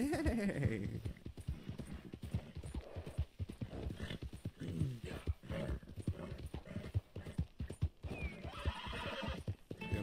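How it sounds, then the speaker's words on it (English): Hoofbeats of a horse galloping in Red Dead Redemption 2, a fast clip-clop rhythm with whinnying and snorting, a voice talking over it throughout. "Damn, this horse just has no stamina at all."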